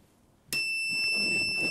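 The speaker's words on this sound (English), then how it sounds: "I got KAAF University pressing the buzzer first." A quiz buzzer pressed at a law challenge contest between university teams, giving a sharp electronic tone with steady high pitched ringing that starts abruptly and holds, loud and close in a hall.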